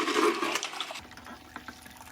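Water rushes loudly through a Flour Gold Wizard cleanup sluice during a gold gravel cleanup, then drops after about a second to a softer, steady trickle with small splashes.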